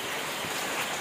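Steady rain falls outside a home in Kerala during Diwali, a close, continuous hiss of drops on surfaces with no pauses and no voices.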